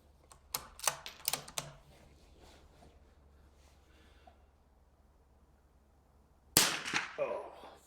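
Sharp cracks from a Weihrauch HW66 air rifle fired outdoors at grassy targets, a quick cluster of four snappy shots early on, then one louder, closer crack near the end with a ringing tail.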